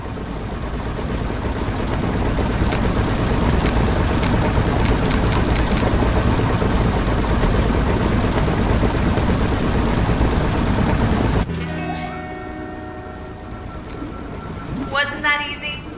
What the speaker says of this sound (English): The engine is engaged and we are starting our ascent.